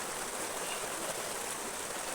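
A river swollen by heavy rain rushes near a house, a dense steady hiss of flowing water, continuous and fairly loud with no voices.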